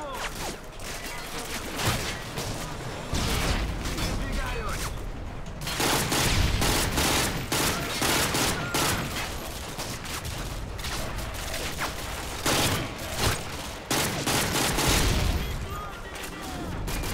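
Dense, rapid bursts of automatic rifle gunfire with booming impacts fill the scene in Call of Duty: Modern Warfare 2, sustained and loud, with voices talking over the shooting.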